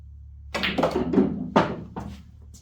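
Pool balls knocked around a billiards table during a shot that runs four rails: a string of about six sharp clacks and thuds over two seconds, fairly close, with no talking.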